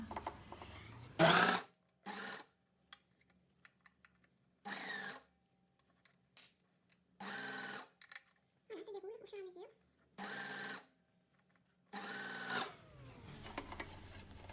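A home sewing machine stitches jersey fabric to make a cake-shaped sock cover, running in several short separate bursts with brief pauses between them, close and clear, while someone speaks between the runs.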